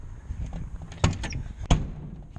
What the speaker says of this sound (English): I think I shut the door.